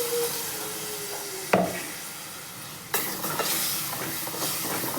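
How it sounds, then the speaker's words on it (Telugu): Ground onion and tomato paste with ginger and garlic fries in a little oil, giving a close, steady sizzle with a couple of sharp bursts as more goes into the pan and it is stirred. "అల్లం వెల్లిగడ్డ వేసిన కొంచెం నూనె పోసి ఇది కొంచెం ఫ్రై కావాలా"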